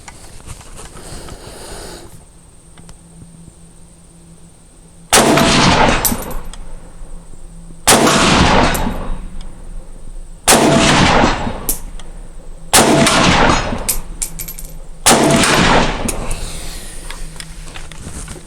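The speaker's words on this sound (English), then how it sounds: "now 5 shots with the Surefire EP10s" Five loud gunshots ring out one at a time, roughly two and a half seconds apart, each a sharp crack that decays over steady background noise.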